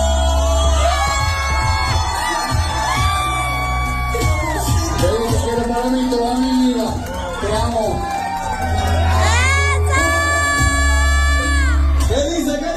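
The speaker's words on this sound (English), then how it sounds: "Cheers and applause came from the crowd as the couple" A nightclub crowd at the Bamboleo cheers, shouts and whoops for a marriage proposal in a long, loud, dense roar, with music tones and raised voices mixed through it and a bright surge of cheering near the end.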